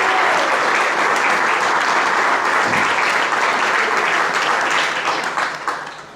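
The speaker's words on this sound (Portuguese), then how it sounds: "uma salva de palmas ao cantor" Sustained audience applause for a singer at a Mozambican diaspora gathering in Lisbon, a dense steady wash of many hands clapping that holds loud throughout and begins tapering off at the very end.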